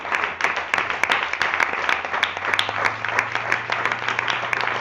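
A church congregation gives a loud, sustained round of applause, dense overlapping clapping from many hands filling the room, with a low hum underneath and no clear speech.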